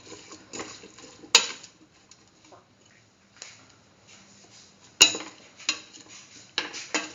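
A spoon stirs cauliflower and chayote rice with salt in a bowl, giving soft scraping and two sharp clinks against the rim amid quiet pauses.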